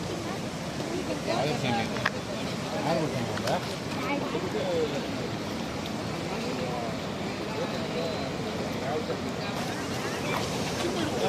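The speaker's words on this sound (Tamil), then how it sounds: "தண்ணி பாருங்க மேலே சிலிர்த்து கொண்டு போய் கொண்டு இருக்கிறது" Steady, broad rushing of turbulent floodwater during Cyclone Fengal fills the scene, continuous and fairly loud, with wind buffeting the microphone throughout.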